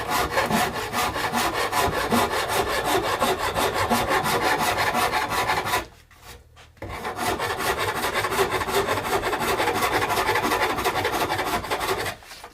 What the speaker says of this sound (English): Now, Japanese saw rasp again.